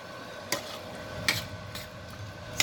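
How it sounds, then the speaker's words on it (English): Steak being stirred into sauce in a pan: a few sharp scraping clinks of a utensil against the pan at irregular intervals over a soft background sizzle. "Going to mix all that together"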